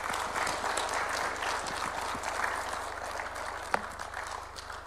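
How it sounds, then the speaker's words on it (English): After a speech, an audience in a large hall breaks into moderately faint applause, a continuous dense patter of many hands heard from some distance, with one sharper clap standing out near the end. "Another round of applause for His Excellency."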